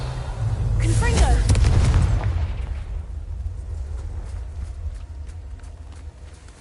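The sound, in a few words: Confringo explosive spell blast in video game Hogwarts Legacy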